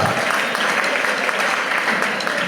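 A church congregation claps hands together at a wedding service, dense continuous applause filling the space at a steady loud level, with a voice faintly underneath.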